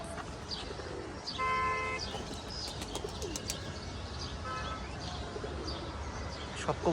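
Young pigeons on a loft shed coo and flutter nearby while a few short tonal honks and chirps sound briefly, with outdoor background noise throughout.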